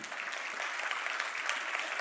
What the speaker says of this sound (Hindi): उनके लिए एक बार जोरदार सभी पालकगण ताली बजाएं।